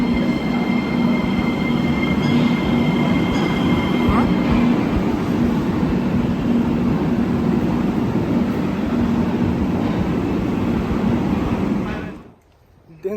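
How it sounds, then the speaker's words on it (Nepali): A train at a Bulgarian railway station rumbles loudly and steadily for about twelve seconds, with faint wheel squeal and metallic tones over the roar, before it cuts off abruptly near the end. "यस्तो छ बुल्गेरियन ट्रेन स्टेसन"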